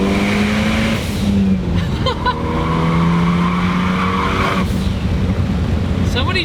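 A Ford Focus ST with an upgraded big turbo pulls hard through second gear, its engine note climbing loud and close with rough, throaty resonance and gear-change dips, with no voices over it.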